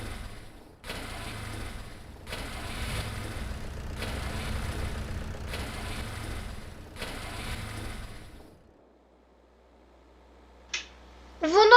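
A tractor engine in Farming Simulator 22 cranks in repeated loud mechanical bursts without catching, then falls almost silent before a couple of short clicks at the end.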